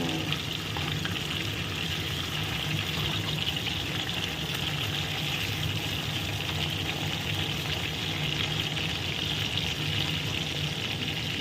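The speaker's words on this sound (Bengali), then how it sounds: "সেই আলুগুলোকে কিন্তু একটু ভেজে নিচ্ছি" Potatoes for a Bengali fish curry fry in hot oil with a dense, continuous crackling sizzle, close and steady from start to finish, with no one talking.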